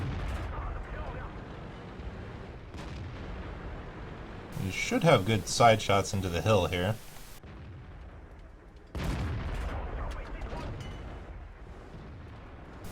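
Tank cannon shots and explosions in a World of Tanks match on the Himmelsdorf map, with a loud burst cluster in the middle of the stretch, all under near-constant commentary.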